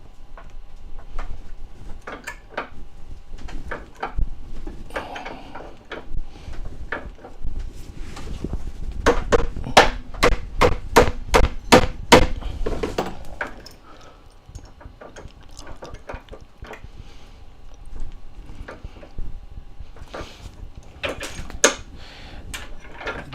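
A rapid burst of sharp metallic hammer strikes on a thick piece of silverware, about a dozen close together, with scattered lighter taps and clanks before and after.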